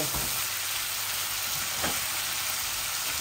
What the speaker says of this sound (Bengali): এই যে আমার আলুগুলো ভাজা ভাজা হয়ে গেছে, সাথে ক্যাপসিকামটাও হয়ে গেছে।